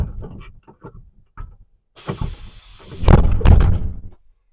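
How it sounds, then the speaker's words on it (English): The passenger door of a motor coach swings open and shut during a CDL pre-trip inspection, with a few soft thuds, a mechanical whoosh and a louder closing thump near the end. "what we're going to check for first here is that the door opens and closes as it should"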